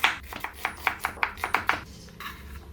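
An onion is chopped with a knife on a board to fine sautéing size, a quick run of about ten sharp, close taps in a steady rhythm that slows and trails off near the end.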